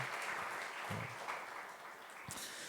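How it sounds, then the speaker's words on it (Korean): A standing church congregation gives welcoming applause during a worship service, a faint, continuous wash of clapping with a few louder low thumps. "우리 박수로 환영하겠습니다."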